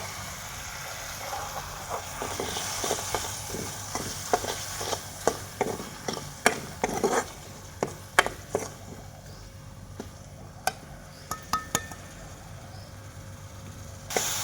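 Turmeric, garam masala and black pepper frying in a pan for rice, with a steady low sizzle under a series of sharp scraping stirs and taps of a spoon against the pan, close and fairly quiet.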